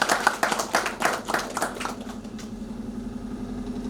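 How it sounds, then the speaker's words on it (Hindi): A crowd claps loudly in a brisk burst at an annual meeting about studying medicine in Kazakhstan, the applause tapering off after about two seconds into a low steady hum. "ये इनकी ईमानदारी के लिए एक बार जोरदार तालियां तो बनती हैं"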